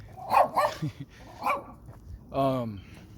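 A dog barks several times in quick bursts, fairly close and loud, with a short whine or yip near the end, heard outdoors during a walk.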